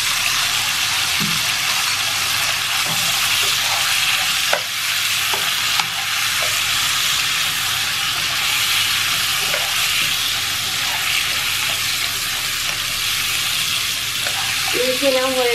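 Tomatoes with ginger-garlic paste, turmeric and coriander powder frying in a pan for potato curry, stirred with a steady broad sizzle and occasional spoon scrapes and knocks, close and continuous.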